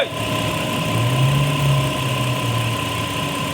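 A Kia Rondo engine idles with a bad AC compressor, a steady close mechanical hum with a persistent whine and a rough low drone swelling midway, no talk.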